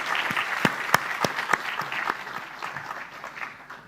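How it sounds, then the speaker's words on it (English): Audience applause at the closing of the 3rd ASEAN Insurance Summit, a dense burst of clapping from a hall crowd with a few sharp louder claps, tapering off over four seconds. "Can we give them all a round of applause,"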